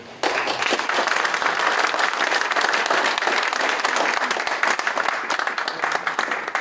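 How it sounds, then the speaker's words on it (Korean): An audience at a Korean church thanksgiving service for an elders' association general assembly breaks into loud, steady applause that fills the room and lasts several seconds, with no talk over it. "다시 한번 큰 격려의 박수를 부탁드립니다"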